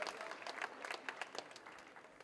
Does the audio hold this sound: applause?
yes